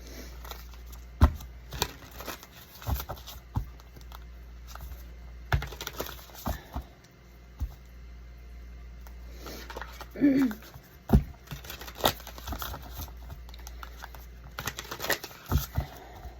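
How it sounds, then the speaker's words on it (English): A large, vibrant tarot deck being shuffled by hand, with soft papery riffles and card taps in irregular bursts, close and fairly quiet throughout. "This is a bigger deck. A little harder to shuffle."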